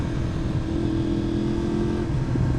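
A Yamaha R1M sport bike's engine swells briefly under a short blip of throttle, a loud, close, buzzing drone with a steady tone that eases off near the end, no voices over it.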